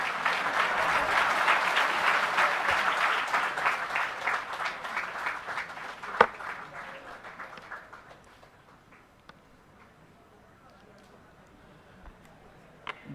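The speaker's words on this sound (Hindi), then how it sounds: "अंकित सर के लिए जोरदार तालियां हो जाएं" An audience applauds a teacher at a felicitation ceremony for newly selected primary school teachers: loud, dense clapping from a crowd that thins and fades out after about eight seconds, leaving only a few faint scattered claps.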